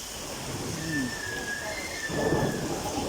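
Heavy rain pours steadily in a dense wash of noise, with a low rumble and faint voices underneath.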